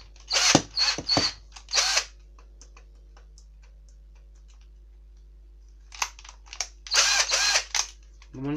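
An Interskol DA-12ER-01 cordless screwdriver runs with a newly fitted chuck in short whirring bursts: a cluster of quick spins, a long quiet gap, then another group of bursts. The sound is close and clear.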